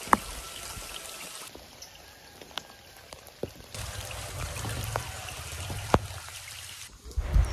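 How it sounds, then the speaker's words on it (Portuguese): Steady rain falls on a small country farm (sítio), making a continuous hiss of drops that thickens partway through, with a few sharper drips and taps and no voices. "Eita, chuva boa."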